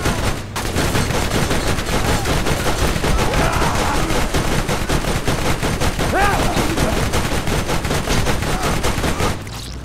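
Rapid gunfire from the Borderlands video game, dense sustained shooting and bursts for nearly ten seconds, loud and continuous with crackling impacts throughout.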